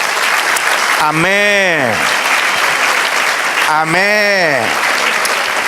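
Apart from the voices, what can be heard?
church congregation applauding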